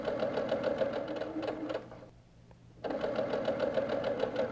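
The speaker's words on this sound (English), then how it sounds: "We're going to start by lowering that presser foot. We're going to start to sew." A sewing machine runs steadily, stitching quilt patches for four-patch coasters, its rapid needle chatter close and even, stopping for a brief pause midway before resuming.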